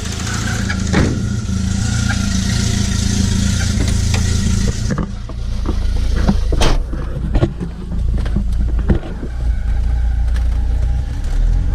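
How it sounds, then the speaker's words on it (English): A Volvo car engine idles and runs steadily close by, with a change in tone midway and some clicks and knocks over the hum. "let's take a look if this thing continues to run good for me."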